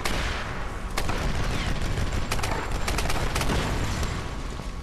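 Big mounted gun in Tomb Raider multiplayer firing rapid continuous bursts on a beach map, dense and loud with sharp cracks standing out over a constant roar.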